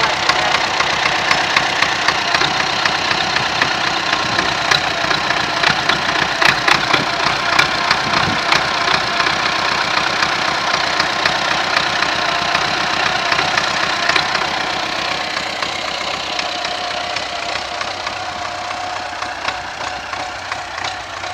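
MTZ tractor engine, mid-restoration and running unloaded, idles rough and hard with a dense knocking clatter close by, steady throughout and easing slightly toward the end.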